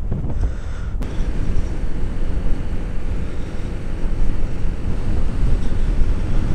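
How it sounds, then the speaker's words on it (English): Strong wind in Richmond Park buffeting the microphone in a continuous low roar and rumble, with no speech. "fuck me, it's windy."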